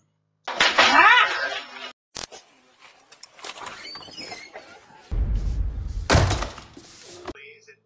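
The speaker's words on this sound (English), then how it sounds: "you don't have to slam the door" A door slams with a hard, loud thump amid a busy cartoon scene, followed by a sharp crash, while voices talk around it.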